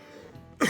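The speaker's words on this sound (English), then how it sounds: "Sorry I coughed without muting the mic." A single short cough bursts into a microphone after a moment of quiet room tone, close and loud.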